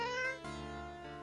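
A cat gives a single drawn-out meow, fairly faint and tonal, lasting just over a second with a slight break partway through, and no talking around it.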